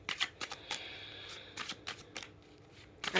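A new deck of tarot cards is shuffled and drawn, giving quick crisp riffles and flicks in bursts, close and fairly quiet, with short pauses between, alone without talk.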